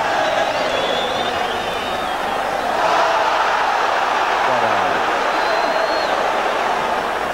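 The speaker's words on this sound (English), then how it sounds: "And the crowd getting behind Stoke now." A football crowd at a Stoke City versus West Ham United League Cup match roars steadily in a broad, distant wash of voices, swelling slightly midway, with commentary over it.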